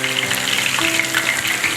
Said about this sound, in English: and I'm frying one piece first.